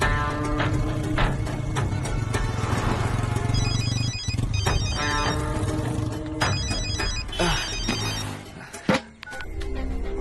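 A telephone rings in repeated electronic bursts over a loud, steady engine-like rumble, the rings coming in regular pairs, in a Telugu action film.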